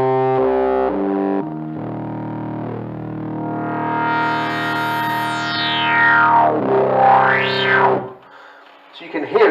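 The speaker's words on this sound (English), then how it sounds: "It's called the bass station, and we made a nice bass sound there" Novation Bass Station analog synthesizer playing a rich, distorted bass patch close up, with sustained notes whose filter sweeps upward and back down in bright resonant glides.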